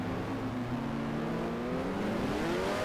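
Racing car engines from the F1 Challenge game at the 1970 Monaco GP whine steadily and loudly, their rising pitch layering several close cars throughout, with no talking.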